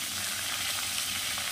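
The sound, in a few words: hilsa fish heads frying in oil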